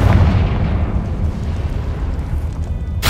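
A Confringo fire spell explodes in the Hogwarts Legacy video game: a loud, deep rumbling blast that decays over about three seconds, with a fresh burst breaking in at the very end.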